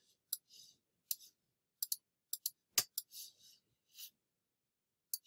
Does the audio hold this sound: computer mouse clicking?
yes